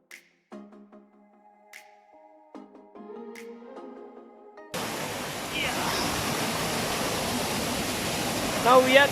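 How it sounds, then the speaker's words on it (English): A waterfall inside a tea estate rushes as a steady, broad roar that cuts in partway through after quiet plucked music, then continues loud and constant with a few faint higher sounds near the end. "Now we are climbing the waterfall."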